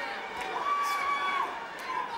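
A boxing crowd roars through a title fight between Manuel Medina and Johnny Tapia: a steady, loud wash of arena cheering, with a sustained whistle rising over it in the middle.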